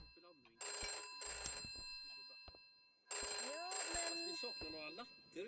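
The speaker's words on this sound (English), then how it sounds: "Where's that phone? That is obnoxious." A telephone ringing with a shrill electronic trill in two paired bursts, a pause, then two more bursts, while a voice speaks in the gaps between the rings.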